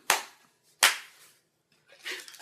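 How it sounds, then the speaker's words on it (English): A single sharp hand clap used to sync sound on a film set, followed by a second clap and then a softer burst of noise, each crisp and close in a quiet room. "Why did you clap?"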